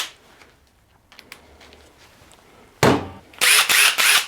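Hercules brushless impact driver drives a 3.5 inch screw through a quick-insert collet adapter into wood, with soft handling sounds followed by a loud, close motor whir and then rapid hammering impact bursts in three pulses.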